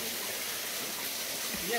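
The Mbingmboh waterfall rushes in a steady, broad, hissing roar close by, with faint voices underneath.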